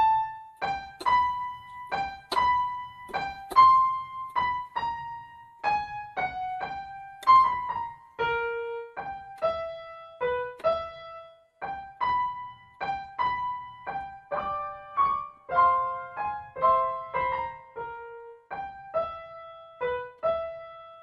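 A theme from Harry Potter on a keyboard: a steady, clear melodic line of struck notes with an even rhythm and moderate loudness, played solo for about twenty seconds.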